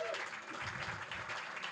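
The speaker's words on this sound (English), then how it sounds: "Give a round of applause to that awesome panel." An audience at a startup kick-off event applauds a panel, a steady wash of clapping lasting the whole moment with a faint voice or tone at the start.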